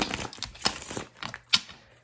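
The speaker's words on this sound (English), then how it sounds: "we're just going to shuffle these decks up just a little bit" Tarot card decks are shuffled by hand, giving a few soft riffling and crinkling bursts, close and fairly quiet, with no talk.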